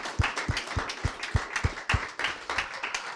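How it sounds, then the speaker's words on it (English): Audience applause for students after their brochure presentations at a school information meeting, a steady patter of many hands clapping at moderate volume with rhythmic sharper claps standing out. "Let's give them a round of applause"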